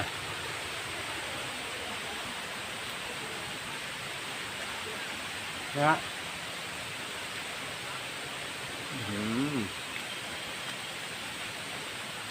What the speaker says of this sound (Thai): น้ำตกเล็กๆไหลลงมา